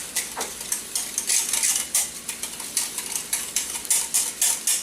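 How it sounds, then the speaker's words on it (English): Eggs and custard being whisked with salt, paprika and cayenne in a pot for crab Newburg, a steady run of quick metallic clinks and scrapes of the whisk against the pan, close and fairly loud with no talk. "add your salt, your paprika, and your cayenne pepper, okay? And just whisk those all together."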